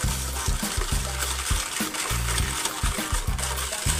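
Hot decaf coffee pours into a mixing bowl for a devil's food cake batter in a kitchen, a steady close splashing rush running the full length beneath a series of regular deep thumps.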